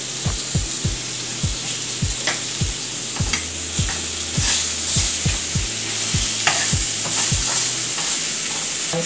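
Lemon chicken frying in a pan, a steady close sizzle punctuated by a series of soft knocking thumps from stirring or turning the pieces, without any talk.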